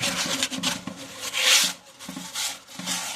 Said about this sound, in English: After you get the guts out, I just want to wipe, make sure that these surfaces are okay and flat.